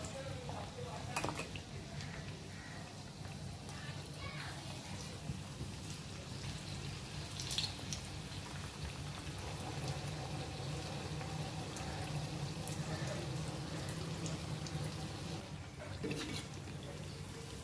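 Carrot bhaji (fritters) drop into hot oil and fry with a soft, steady sizzling hiss, faint overall, with occasional light clinks of utensils.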